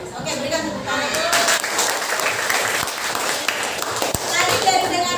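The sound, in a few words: class of children applauding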